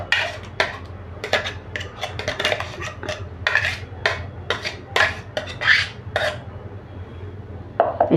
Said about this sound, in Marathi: या चिकनमध्ये हे सर्व वाटण घालून घेऊया.